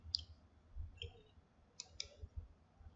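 A computer mouse gives a few sharp, close clicks spaced apart against a quiet room background.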